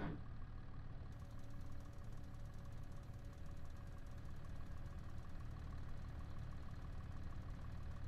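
Steady tractor engine idling with a low knocking diesel chug in Farming Simulator 22 on a farm, continuous and close, with no talking over it.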